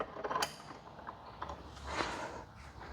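Nut and washer being tightened onto a bolt while fitting a billet luggage rack to a Can-Am Ryker motorcycle, giving brief soft metallic ratcheting and clicking mechanism sounds, with one sharper click near the start, fairly quiet and close.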